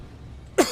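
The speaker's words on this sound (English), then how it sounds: "Sorry, I got a cough, hold on." A single short cough from someone narrating gameplay, sharp and close after a near-silent pause, then trailing off quickly.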